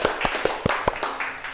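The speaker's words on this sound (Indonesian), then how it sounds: "beri tepuk tangan buat semua" A classroom of students claps together in a quick uneven burst of about half a dozen sharp, close hand claps that fade out near the end.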